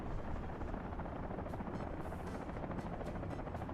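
A helicopter in the city-building game Workers and Resources, its steady rotor thrum and engine drone held at constant loudness throughout, with no talk over it.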